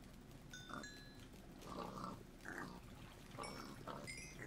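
Minecraft pigs crowding in a video game, several short oinks and grunts at irregular intervals, moderately near and fairly quiet, with no talking.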